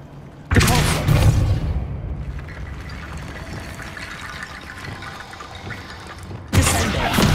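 Depulso force spell cast in the game Hogwarts Legacy, a loud whooshing blast that hits at once and then trails into a rushing, rumbling wash, with a second burst near the end.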